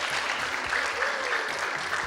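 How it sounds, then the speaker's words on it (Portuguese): An audience applauds a visiting lecturer at a creationism week event, a continuous even wash of many hands clapping close by with faint voices mixed in. "Salve de palmas para o nosso palestrante"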